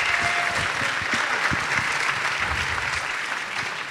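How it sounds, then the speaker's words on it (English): Theater audience at The Cabot Theater giving a round of applause, a thick, continuous roar of many clapping hands at steady volume, easing slightly at the very end. "I'd like to just give a quick applause to Wooden Bone and our dear friend Jesse and"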